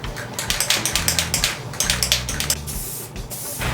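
Rust-Oleum spray can laying down a light primer coat, quick bursts of hissing spray mixed with rapid rattling clicks in an uneven rhythm, close and fairly loud, with no talking.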